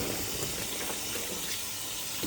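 Running water splashes and churns as a pot is washed in a plugged kitchen sink, a continuous close wash with small knocks and sloshes, no talking.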